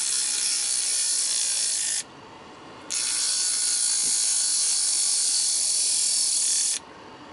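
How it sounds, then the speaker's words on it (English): Sandpaper held against a spinning BLDC motor shaft to polish metal and screws gives a steady, loud, high rasping hiss. It breaks off for about a second near the two-second mark, then resumes and stops near the end. "it's quite handy if you want to just polish some metal or whatnot, or some screws"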